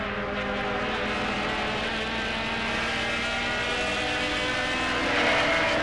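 Onboard a Mazda touring race car at Mosport during a 2003 World Challenge race, a loud continuous engine roar at high revs, close and steady with rising pitch toward the end, no talk.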